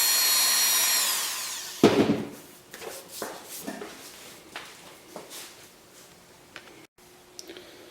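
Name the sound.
sanding rough JB Weld off bakelite radio cabinet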